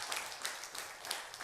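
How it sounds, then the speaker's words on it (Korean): A church congregation claps together during a worship service, a dense, steady patter of many hands that carries on through the whole moment with no voices over it. "하나님 경고의 박수 올려드리겠습니다"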